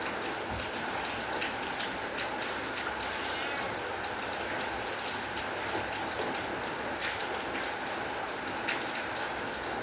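Steady rain falling outdoors, a dense, even hiss of drops on surfaces that lasts throughout at moderate level, with faint voices under it.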